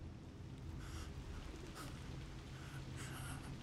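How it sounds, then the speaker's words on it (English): Steady rain hiss fills a night scene in the video game Observer, soft and continuous with a faint low rumble beneath, and no talking. "Don't mind the rain."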